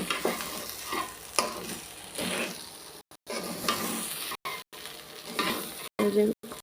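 Polao rice and vegetables frying in a pot, bursts of sizzling with scraping stirring strokes, loud and close, broken by several brief silent gaps.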